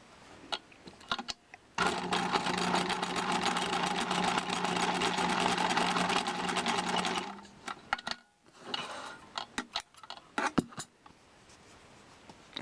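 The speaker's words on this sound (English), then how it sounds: "I'm going to sew right along that edge, back stitching at both places." A sewing machine runs steadily for about five seconds, stitching along the edge of a diaper cover, then stops, followed by soft handling clicks and a few brief stitches.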